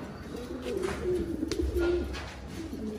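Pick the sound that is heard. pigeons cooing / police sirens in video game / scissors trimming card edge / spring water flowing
pigeons cooing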